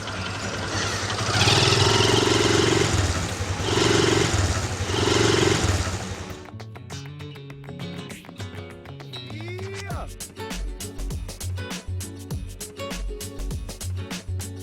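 A motorcycle rides along a rural mountain road in Peru, its engine droning loud and close in surges for about six seconds before giving way to music and a voice talking.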